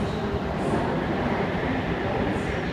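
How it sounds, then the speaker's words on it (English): A Sydney Trains Tangara rumbles into platform 2 at Bondi Junction's underground station, a loud, steady roar filling the space throughout with no distinct voices. "We've got a Tangara arriving into platform 2."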